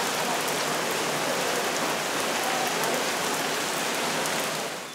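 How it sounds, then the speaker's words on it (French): Steady rain falls outdoors just after it has begun, a dense, even hiss of drops hitting surfaces that holds constant throughout with no voices, fading slightly at the very end. "Dehors, il pleut."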